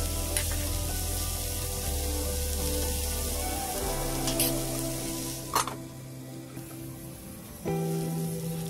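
Vegetables frying in a pan for a simple home lunch of brinjal curry and beans fry, a steady close sizzle with occasional stirring scrapes and clicks, no talk.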